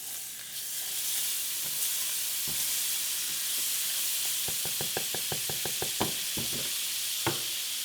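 Olive oil and butter sizzling in a hot pan, a steady broad hiss with soft clicks and taps of a utensil clustering toward the end, no voices.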